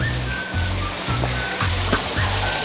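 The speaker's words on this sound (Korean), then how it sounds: "여기가 승합폭포인가봐요" Steady rushing roar of Seunghak Falls on Samaksan mountain, a mountain waterfall heard up close as continuous broadband water noise, with a low hum and faint speech-like sounds beneath.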